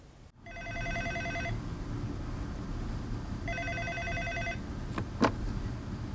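A telephone rings twice at a counselling centre with a bright electronic trill, a pause between the rings, followed by a couple of faint clicks.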